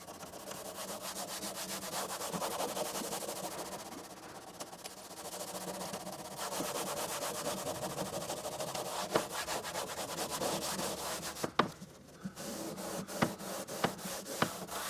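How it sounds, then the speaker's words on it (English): Paint being rubbed down by hand on the door card of a 1965 Ford Mustang, a steady abrasive scrubbing that runs almost the whole time, broken by a short pause and a few sharp taps near the end. "So now it's just a case of rubbing down."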